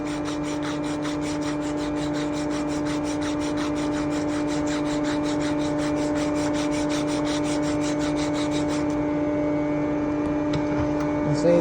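Fresh 120 grit sandpaper rubbing by hand in quick, steady back-and-forth strokes, close and loud, over a constant low hum, with the strokes easing off near the end.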